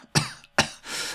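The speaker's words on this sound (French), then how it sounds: "Excuse-moi de tousser" Two sharp, close coughs about half a second apart from a man on a French stock-market investing show, followed by a softer breathy rasp, with no talk around them.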